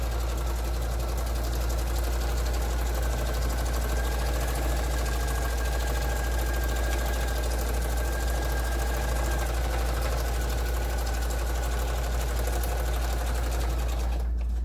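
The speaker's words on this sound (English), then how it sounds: "So I'm going to go ahead and stitch here." A sewing machine runs steadily, stitching a second seam along the bottom of a feedsack tote with thick thread, a continuous close motor hum and needle buzz that stops abruptly at the end.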